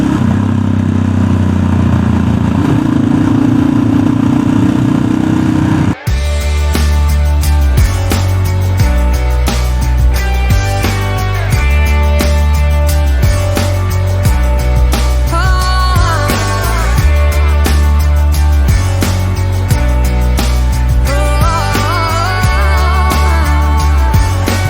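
A Yamaha XT660X single-cylinder motorcycle thumps along on the road, its engine loud and close, rising and falling as gears change, after a brief stretch of muffled rumble.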